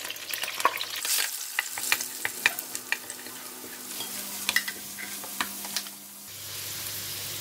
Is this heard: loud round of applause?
no